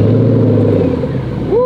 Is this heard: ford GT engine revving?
yes